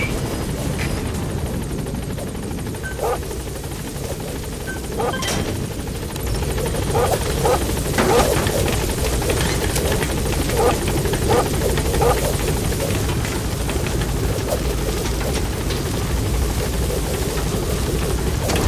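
The Pequod helicopter in the video game Metal Gear Solid V arrives with a continuous rotor thrum and engine drone that grows a little louder, under occasional clicks and in-game radio voices.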